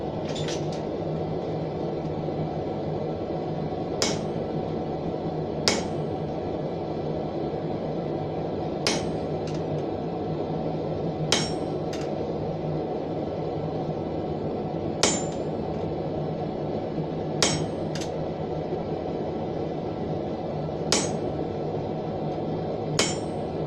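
A hammer strikes a chisel on horseshoe metal with sharp metallic taps, about a dozen spaced irregularly a few seconds apart, over a steady background hum.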